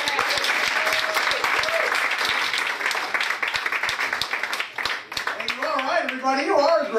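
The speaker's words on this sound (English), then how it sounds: "Put your hands together for Jeff Schaeffer." Applause and scattered cheering from an audience at a stand-up comedy club, loud, dense and continuous, with a voice rising over the crowd near the end.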